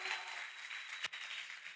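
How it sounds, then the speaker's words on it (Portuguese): Faint, distant applause from a Portuguese-language church congregation at a Sunday morning service, a soft steady patter with one sharper knock partway through. "Vamos aplaudir eles"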